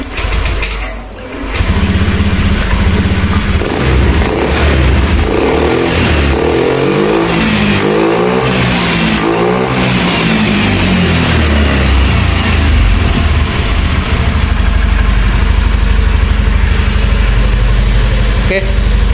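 A Honda Beat ESP scooter with a faulty engine that stutters on light throttle, won't climb in RPM and is hard to start is restarted after being switched off, then revved up and down, loud and close, before settling into a steady run.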